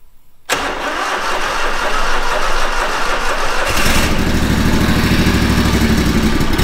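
A farm machine engine with a nearly flat battery, given a shot of Aerostart, is heard cranking loudly and close, then catching and settling into a steady rumbling idle for the last few seconds.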